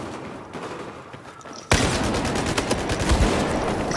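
Sudden burst of intense gunfire in the Battlefield video game, dense overlapping shots and blasts continuing loudly after a quieter lead-in, with a shotgun in play.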